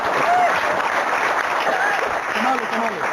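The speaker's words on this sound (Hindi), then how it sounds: "ताली बजाओ।" An audience claps steadily in a continuous, moderately loud stretch of applause, with faint voices mixed in underneath.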